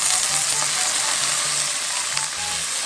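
King oyster mushroom vegetarian sausage stir-fried in sauce with pepper and Sichuan pepper powder, giving a steady close hiss and sizzle from the pan with light stirring scrapes throughout.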